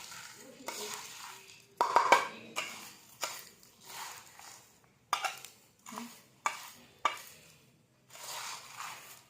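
Chili powder being stirred by hand into avalakki churumuri, a series of close, soft scraping and clinking strokes of a spoon against a bowl in an irregular rhythm, quiet between strokes.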